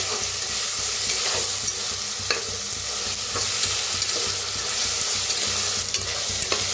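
Onion masala roasting in a pan with steady close sizzling and continual scraping strokes of a spoon stirring, loud and even throughout, with no talk.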